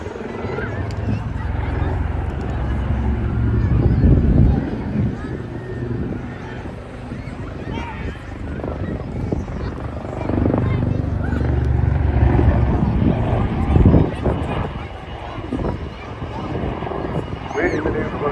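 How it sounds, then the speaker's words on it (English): A combat helicopter used for maritime counter-terrorism flies nearby, giving a steady, heavy low rumble that swells and eases throughout, with voices mixed in. "It's essentially a combat helicopter with new generation of sensors and mission equipment"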